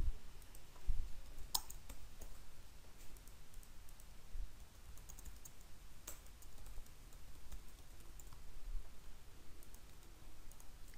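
Faint, scattered clicks of typing on a computer keyboard, with a few sharper key taps standing out over a quiet background hiss.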